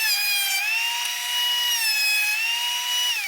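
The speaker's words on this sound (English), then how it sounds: "Now we're going to send them through our jointer." A jointer planes the edges of 2x4 boards in a woodshop, giving a steady, loud high-pitched whine with a tonal hum that rises slightly and holds for several seconds without a break.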